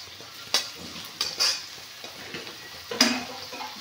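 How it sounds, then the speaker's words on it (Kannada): Vegetables stirred in a pan for egg fried rice, a soft sizzle under a few sharp scraping stirs of a spatula against the pan, spaced irregularly over a few seconds. "ಇದು ಚೆನ್ನಾಗಿ ಫ್ರೈ ಮಾಡೋಣ"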